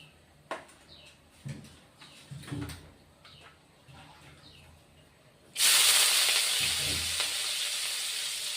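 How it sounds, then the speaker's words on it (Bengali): Chopped, washed onions go into hot oil while cooking charapona fish with posto. A few soft clinks and taps come first, then a loud, close, steady sizzle bursts in and keeps hissing to the end, with no talk. "তেল দিয়ে দিলাম বন্ধুরা কুচানো পেঁয়াজ কেটে রেখেছি ধুয়ে টুয়ে এবার পেঁয়াজটাও দিয়ে দেবো"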